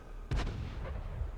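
A T-34-3 tank's main gun fires a single shot at an SU-100M in a video game, a sudden loud boom with a rumbling tail over steady low background noise.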